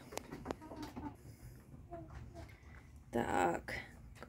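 Backyard hens clucking softly in short scattered bursts, with a louder cluster of clucks near the end, quiet and close with low background noise.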